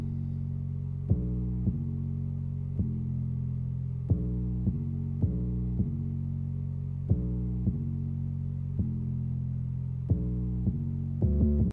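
Sizzle 808 bass drum pattern in a hip-hop beat: long, deep sustained bass notes that change pitch in a steady rhythmic pattern, loud and continuous, with no talking.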